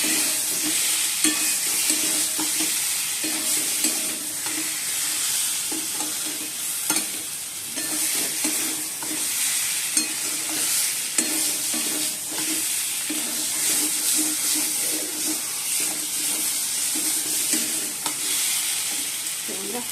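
Food sautéing in a hot pan, with a steady close sizzle and frequent scraping stirs of a spatula running throughout, no voices.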